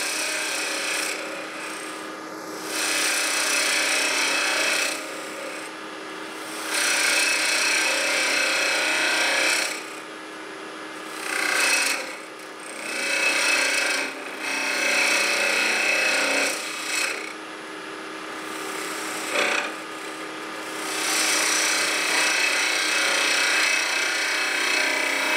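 A gouge cuts into a wooden kuksa cup spinning on a lathe, producing a close, rasping scrape in long sustained passes broken by short pauses, loud and steady with no talking.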